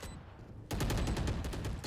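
Gunfire in the Valorant video game: after a quieter stretch, dense rapid shots erupt and keep rattling loudly to the end, with no speech over them.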